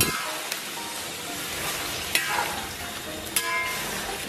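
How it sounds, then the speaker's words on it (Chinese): Skewered ingredients stir-fried in a wok over high heat, a steady near sizzle and hiss with a few sharp clacks of the utensil against the pan, no voices. "开大火，咱们给它搅拌均匀。"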